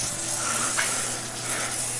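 WD-40 is sprayed onto brake parts of a 2008 Nissan Sentra SE-R Spec V, giving a steady, continuous aerosol hiss close by for the whole moment.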